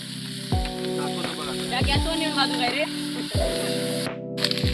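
Chicken sizzling loudly in a pan during outdoor rooftop cooking, a steady close frying hiss with occasional stirring scrapes and a few faint background voices.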